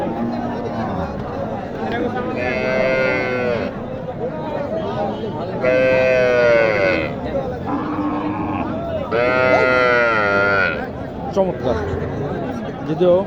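Cattle at a village livestock market, with several loud, drawn-out moos rising over a steady crowd babble and nearby chatter.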